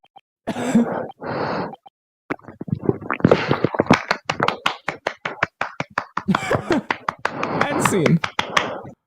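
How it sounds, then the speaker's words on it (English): Hands clapping in rapid, uneven bursts of sharp claps, loud and close, broken by brief pauses, with people talking in between. "I was clapping"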